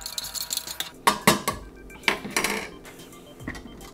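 A spoon stirs coffee in a cup, a run of bright metallic clinks and scrapes against the sides in quick irregular bursts, close and clear with no voices.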